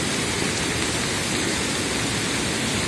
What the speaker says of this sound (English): So this is a dangerous waterfall.